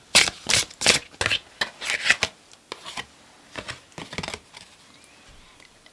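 Oracle cards shuffled by hand at close range, several quick riffling bursts in a row, then sparser softer shuffles before a short snap at the end.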